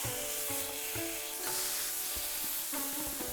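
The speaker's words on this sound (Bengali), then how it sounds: "বড়াগুলোর আর এক পিঠ ভেজে নেব" Cabbage fritters fry in hot oil with a faint, steady sizzle and a few soft knocks from a spatula. No voices are heard.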